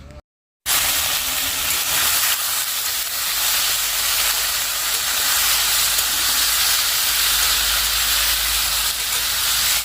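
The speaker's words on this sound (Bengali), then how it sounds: "এদিকে পাঁপড় একটু ভেজে নিচ্ছে" After a brief silence, a steady, loud sizzle and hiss of papad frying in hot oil runs on without a break, with no voices over it.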